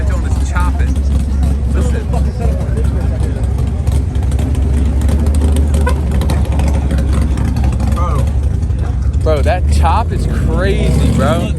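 A modified BMW M3 track car at a car meet runs with a loud, rough chopping idle, its low engine rumble constant and close, while excited voices talk over it.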